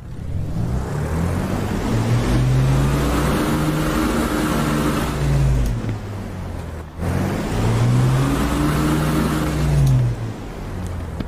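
Twin-engine drone of a Mosquito FB VI heard from inside the cockpit in a flight simulator, a loud steady low rumble with pitch rising and falling in two long swells, broken by a brief dip midway.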